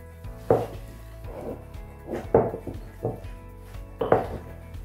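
Coleslaw sauce is stirred together in a bowl: a series of close, irregular clunks and scraping knocks from a utensil against the bowl, about six distinct hits in a few seconds.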